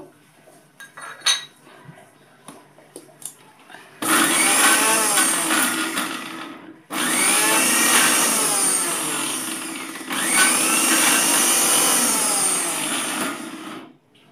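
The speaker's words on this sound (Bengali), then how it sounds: "তো এখন ব্লেন্ড করে নিব।" A blender grinds dried fish with leaves into a Bangladeshi bhorta, running in three loud, close, whirring bursts of roughly three seconds each with brief stops between, after a few quiet clinks.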